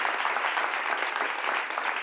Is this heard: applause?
yes